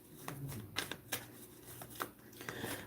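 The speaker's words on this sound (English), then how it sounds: "I'm being told to shuffle for another card for you, so I'm doing that as we speak right now" Tarot cards being shuffled by hand in repeated soft riffling bursts and flicks, close and fairly quiet, with no talking over them.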